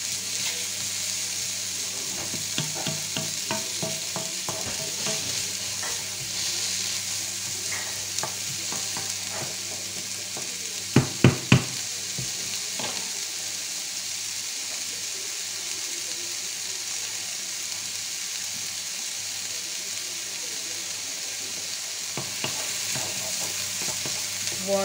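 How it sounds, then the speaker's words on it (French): Onions sauté in a pan for boeuf bourguignon, a steady close sizzle with stirring scrapes throughout and a short burst of utensil clatter midway. "on fait revenir jusqu'à que nos oignons deviennent translucides"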